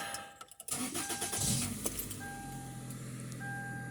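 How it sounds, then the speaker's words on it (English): A 1997 Toyota Corolla DX starts after keys jangle: a short cranking whir catches into a mid-pitched engine that settles into a steady idle with a faint electronic chime. "Start the car to turn the brights on."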